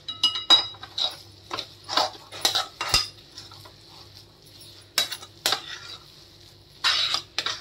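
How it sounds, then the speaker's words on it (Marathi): A spoon stirs sesame seeds into a jaggery and mawa barfi mixture, scraping and clinking against a metal pan in irregular bursts with brief pauses, close and fairly loud, with no talking. "आता याच्यात थोडीशी तीळ घालूया, 1 चमचा भरून. कालवून घेऊया."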